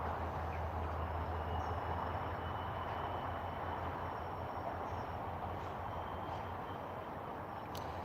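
Heavy rail traffic rolls past Basford Hall sidings at Crewe, where a Class 66 diesel locomotive moves through the yard. The rumble is steady and distant, a low constant drone with faint high squeals and no talk.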